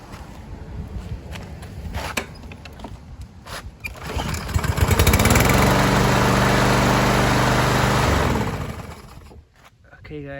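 A small lawn mower engine, freshly given an oil change, rattles and sputters, then swells into a loud steady running drone for several seconds before cutting back, close by with some clatter and handling noise around it.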